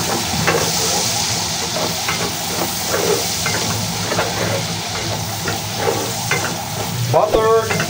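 Onion frying in a pan gives a loud, continuous sizzle and hiss while a utensil stirs and scrapes it in irregular strokes, close up, with no talking.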